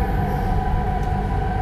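Steady rumble and rattle inside a moving LRT light rail train, a continuous loud ride noise with no break or voices.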